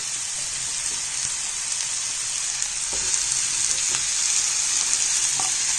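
Wet cashew nuts frying in a hot masala, giving a steady, close, continuous sizzle with occasional stirring scrapes and pops, no voices.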